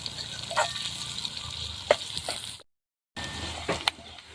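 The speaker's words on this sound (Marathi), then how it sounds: "कांदा ॲड करते कांदा छान असा लालसर रंग येईपर्यंत तळून घ्यायचं आहे तेलामध्ये" Onion fries in hot oil, a soft continuous sizzle broken by a few brief stirring clicks, close by, with a short silent gap partway through.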